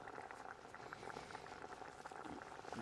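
A pot of soup simmering with the lid on, given a steady close-up bubbling and gentle burbling with small irregular pops, soft and continuous throughout with no talk.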